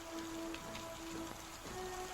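Steady rain falls continuously with a dense patter and a faint low hum beneath it, heard alone with no voices.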